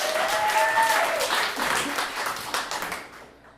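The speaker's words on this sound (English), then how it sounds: "Give them a big round of applause." An improv theatre audience breaks into sustained applause, dense clapping close and full at first, then gradually thinning and fading out.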